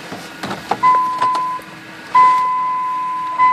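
Power moonroof of a 2009 Dodge Journey running, a steady electric motor whine that starts, pauses briefly and resumes, close by inside the car, with faint clicks before it and no talking.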